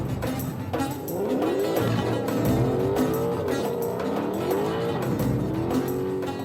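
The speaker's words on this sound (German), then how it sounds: "macht schon mal die Reifen warm." A Maserati MC12 Corsa race car warming its tires, its engine revving and droning steadily with rising and falling pitch sweeps, loud and close throughout.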